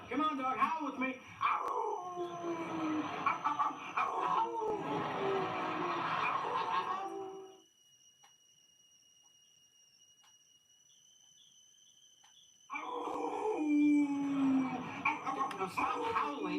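A man imitates a dog's howl with a long, wavering drawn-out cry, then falls silent and starts howling again, loud and close, surrounded by talking and laughter.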